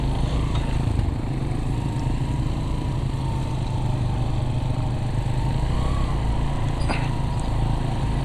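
Motorbikes climbing a steep, rough mountain road in the Neelam Valley of Azad Kashmir, engines droning and straining steadily nearby with a constant buzzing hum, no talk over it.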